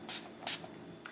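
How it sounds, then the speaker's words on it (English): Urban Decay Chill makeup setting spray misted close up in three quick hissing pumps, the first two fuller and the last a short burst, against a quiet room. "And then I'm just gonna finish off with some Urban Decay Chill Makeup Setting"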